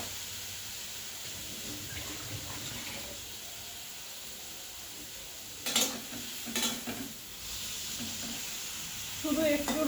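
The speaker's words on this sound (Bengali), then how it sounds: "দিয়ে চিংড়ি মাছগুলো একদম জাস্ট হালকা ফ্রাই করে নিচ্ছি" Shrimp fry lightly in a pan with turmeric and salt, giving a soft, continuous sizzle, with a few sharper bursts of utensil clatter and stirring near the end; no one speaks.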